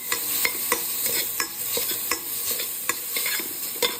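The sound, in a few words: grated coconut roasting in ghee in a pan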